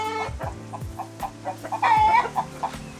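Nearby free-range chickens on a Costa Rica permaculture farm clucking in a busy, repeated chatter, short clucks coming every fraction of a second with one louder drawn-out call.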